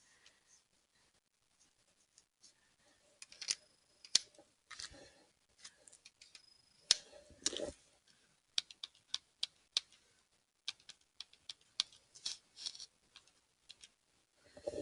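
Calculator buttons pressed during a chemistry molarity calculation, a series of faint, sharp plastic clicks in irregular bursts, close and quiet with near silence between presses.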